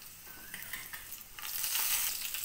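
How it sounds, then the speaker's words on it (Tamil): Oil crackles and sizzles in a hot pan, a steady frying hiss that grows louder and busier partway through as cumin and chilies hit the oil for tempering. "சீரகம் மட்டும் போட்டு தாளிக்கலாம்."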